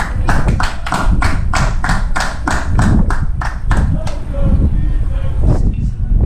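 A baseball crowd claps for several seconds, the applause steady and then tapering off, with a voice talking over it.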